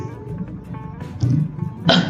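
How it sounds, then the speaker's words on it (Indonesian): Two short coughs, close and fairly loud, break out over quiet background noise, one in the middle and a harsher one at the end. "maaf sedikit batuk ya"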